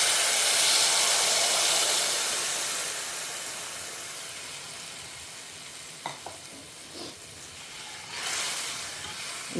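Tamarind water poured into hot coconut oil tempered with mustard seeds, curry leaves and asafoetida, giving a loud steady sizzle and hiss that slowly eases, with a few soft clinks of a utensil toward the end.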